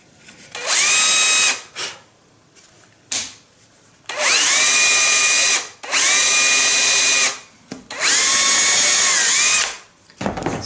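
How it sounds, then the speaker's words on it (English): A power drill bores holes in Baltic birch plywood, running in four loud whining bursts of one to two seconds each, with quiet gaps and short spin-ups between them. "So I just go ahead and drill."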